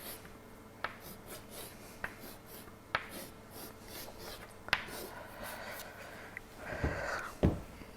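Pen or marker drawing a chemical structure on a board or paper: scratchy strokes with sharp taps at irregular intervals, close, with faint background voice.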